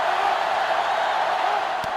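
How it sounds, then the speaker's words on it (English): Stadium crowd noise from the NCAA Football 2005 video game on GameCube, a steady, dense roar that holds at an even level throughout, with no distinct cheers standing out. "The defense now really trying to get the crowd into it."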